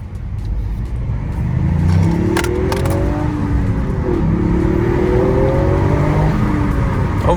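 A Toyota GR Yaris engine revs steadily up close, a loud continuous drone with rising and falling tones throughout.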